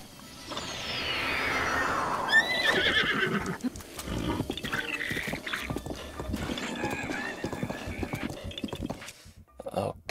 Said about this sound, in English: I think I better get my horse.